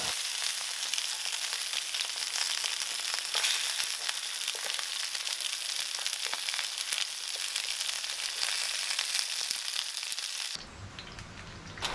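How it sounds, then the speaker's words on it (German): Bones roast in a hot pan until golden brown on both sides, giving a loud, dense, continuous sizzle with scattered crackles up close, which drops suddenly to a quieter hiss near the end. "nachdem die Knochen von beiden Seiten schön goldbraun angeröstet sind"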